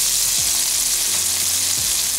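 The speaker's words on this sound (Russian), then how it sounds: "И чесночок пошел." Garlic sizzles in melted butter in a frying pan after bacon fat has rendered, a steady loud hiss of frying close by with faint low clinks underneath, no talk.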